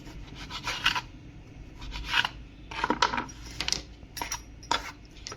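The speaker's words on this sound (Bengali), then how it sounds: "ব্রেডের সাইডগুলো আমি কেটে নিচ্ছি, একদম পাতলা পাতলা করেও কাটছি যাতে আমার একটু ব্রেডটা বেশি পাওয়া যায়" A knife trims thin crusts from slices of bread in a home kitchen, producing a series of soft, crisp scraping rasps at irregular intervals, close and fairly quiet, with no one talking.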